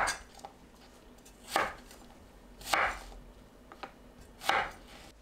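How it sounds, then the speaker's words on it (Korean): A knife cuts pitted apple jujubes into bite-size pieces on a cutting board, giving four crisp, evenly spaced chops against a quiet kitchen background, with no talking. "사과대추는 씨 빼고 한입 크기로 썰어주세요."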